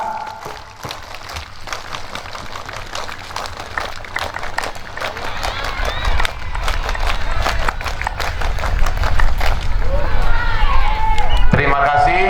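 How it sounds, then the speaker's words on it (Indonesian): A Pramuka scout group at a madrasah scout camp in East Flores claps in a rhythmic pattern, loud and crowded with sharp repeated claps building in density, under a steady hubbub of many voices and some cheering. "saya meminta kita untuk tepuk pramuka 3 kali"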